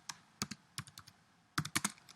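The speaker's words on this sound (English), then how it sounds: "type in a couple of things" Computer keyboard typing in bursts of sharp, close clicks, a few quick keystrokes, a pause, then another rapid cluster, with no speech.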